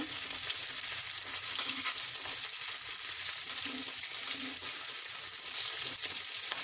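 Bell peppers fry in a pan with a steady, close crackling sizzle throughout, joined by faint scraping as they are turned over.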